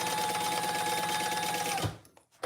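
A sewing machine stitches through fusible fleece in a steady, close whir that runs for about two seconds, then stops abruptly into near silence.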